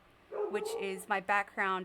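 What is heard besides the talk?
dog barking outside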